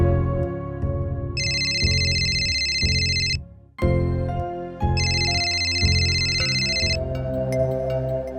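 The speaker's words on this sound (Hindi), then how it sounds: "घर के अंदर लगातार फोन बज रहा था, लेकिन कोई उठा नहीं रहा था।" A telephone rings inside a house, a government residence in Sholapur, Maharashtra. Two long, loud bursts of electronic ringing sound clearly over a bed of dramatic background music.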